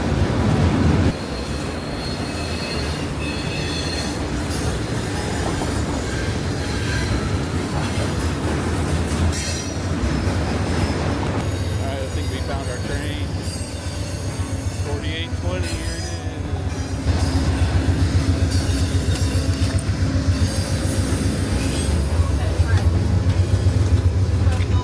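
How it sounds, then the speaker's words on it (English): An Amtrak train arriving at Rochester, New York station rumbles and clatters steadily, with metallic wheel squeals and rolling clicks, while people talk faintly nearby. "Train's here."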